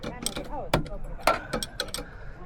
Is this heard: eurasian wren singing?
no